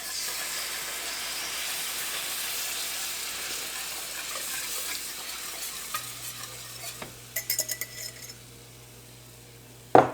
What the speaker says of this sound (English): I'm now going to start whisking in my milk.